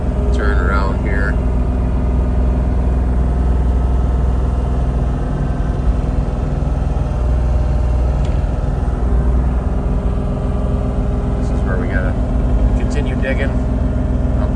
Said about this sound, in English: Dozer's helping out backfilling.